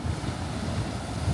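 Ocean surf at a beach with surfable waves, a steady low rush of water and wind noise buffeting the microphone throughout, no distinct single break standing out.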